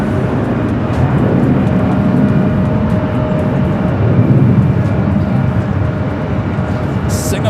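A Boeing 777-300ER airliner arriving at LAX gives a loud, broad jet roar that swells slightly mid-way, with someone talking over it throughout.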